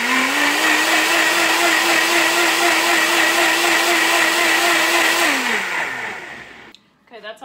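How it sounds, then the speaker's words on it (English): A blender whirs steadily at high speed, mixing a dairy-free keto pumpkin spice drink, loud and continuous for about five seconds before the motor winds down and stops. "So let me blend this up."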